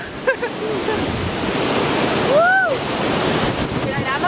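Very strong wind roars without a break across a hilltop, loud buffeting against the microphone, with a brief distant bird-like whistle partway through.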